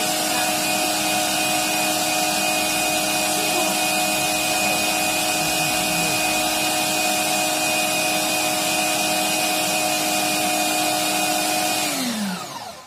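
A Twinzee electric meat grinder-stuffer running while making merguez sausages, a loud steady motor whine with a constant hum that carries on unchanged and then winds down sharply as the machine shuts off at the end.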